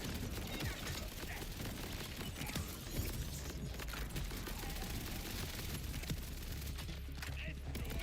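Rapid gunfire rattles through a frantic fight in Borderlands 4, dense overlapping bursts and mechanical clatter running continuously at moderate volume, with game sounds layered throughout.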